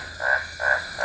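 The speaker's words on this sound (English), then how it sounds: "we have two of these super big tree frogs right here" Big tree frogs in Tayrona National Park, Colombia, croak in three evenly spaced, loud, nasal pulses close by, with a steady night ambience behind them.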